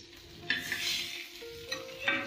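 White pomfret fish fries in a pan with curry leaves and coriander, giving a soft steady sizzle broken by brief scrapes and stirring clinks, close by.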